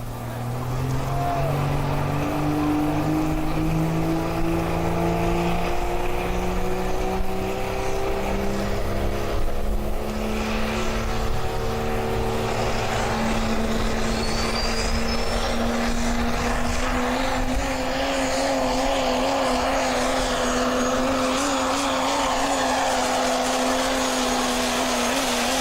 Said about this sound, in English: the motor sounded good.